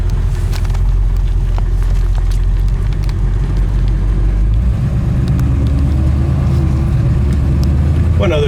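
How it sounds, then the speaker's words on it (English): A 1967 Ford Mustang with a 351 Windsor V8 idles at a stop sign at about 600 RPM, a loud, close, steady low rumble with an even lumpy pulse throughout, with a voice speaking over it. "Here at the stop sign, really has a decent idle. We're idling down here about 600 RPM"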